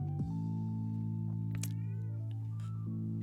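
A cat meows, a short rising cry heard near the middle over a steady droning hum of background tones, fairly quiet and brief.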